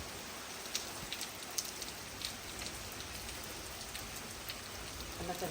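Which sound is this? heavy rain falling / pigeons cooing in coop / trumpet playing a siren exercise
heavy rain falling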